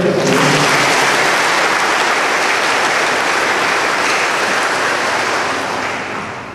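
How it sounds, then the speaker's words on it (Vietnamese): A church congregation applauds during an altar and chapel consecration at a major seminary, a loud, dense wash of clapping that fills the space and slowly fades toward the end. "Xin cộng đoàn vỗ tay cảm ơn Đức Hồng Y."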